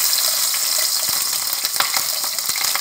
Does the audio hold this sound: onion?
yes